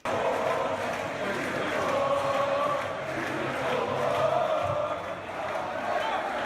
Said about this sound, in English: here's that clip of everyone cheering